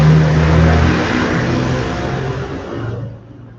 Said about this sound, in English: we have a motorcycle competition in my neighborhood